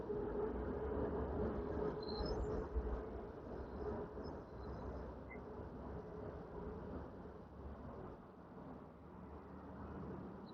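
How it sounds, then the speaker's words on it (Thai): Two trains pass each other at close range in Thailand, a continuous low roar of wheels and carriages with faint high squeals, no voices. "รถไฟสวนกัน"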